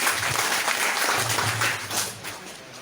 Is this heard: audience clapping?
yes